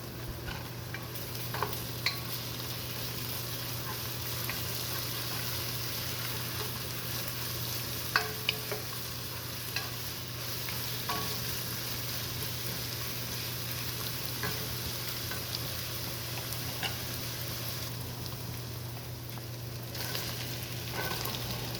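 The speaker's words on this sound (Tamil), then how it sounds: "இப்போ இஞ்சி பூண்டு பேஸ்ட்டை சேர்த்து ஒரு 2 நிமிஷம் நம்ம வதக்கிக்கலாம்" Onions with ginger garlic paste sauté in a pan for a beetroot pulao, giving a low steady sizzle with occasional light clicks of a stirring spoon. A constant hum runs underneath throughout.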